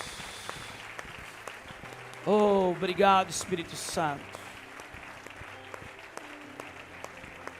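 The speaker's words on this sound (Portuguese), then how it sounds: "Dê um aplauso ao Senhor Jesus." Continuous applause from a church congregation, with someone speaking briefly over the clapping in the middle.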